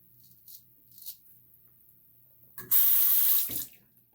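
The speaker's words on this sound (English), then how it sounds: "let me rinse off" A running sink tap bursts on loudly for under a second as someone rinses off mid-shave, following a few faint splashes and handling sounds, then cuts out.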